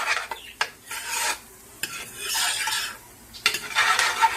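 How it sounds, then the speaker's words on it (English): Onions sautéing in butter in a pan, with scraping stirring strokes and a soft sizzle in irregular bursts, fairly close and moderately quiet with no talking. "I'm sauteing my onions in the butter"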